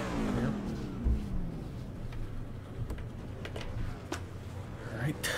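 Race car engine in the iRacing sim, a Pickup Cup truck on the grid, droning steadily with a rising rev sweep early on under continuous talk.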